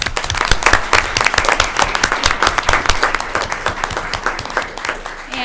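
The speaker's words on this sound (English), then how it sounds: "So if we could give them a round of applause." A round of applause at a school district board of education meeting, clear individual claps from a modest group, steady and energetic, tapering slightly toward the close.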